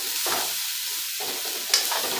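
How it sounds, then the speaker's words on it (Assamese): Potatoes stirred while frying in a pan, a steady close sizzle broken by a few short scraping strokes of a spoon and a small clink near the end, no speech. "এতিয়া আলুখিনি দিম। অলপ লৰাই লৈছোঁ।"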